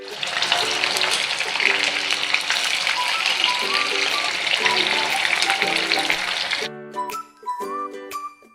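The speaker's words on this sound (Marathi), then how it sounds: "इथं मी आता तेल तापत ठेवलेलं आहे। यात मी हे तुकडे शॅलो फ्राय करून घेणार आहे।" Pieces of bati dough shallow frying in hot oil, a continuous bright crackling sizzle under background music that cuts out near the end, leaving the music alone.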